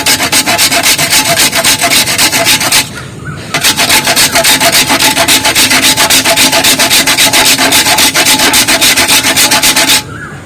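A kitchen grater rasps steadily against a hard material, a loud, continuous scraping and grinding that pauses briefly twice, close up with no voices.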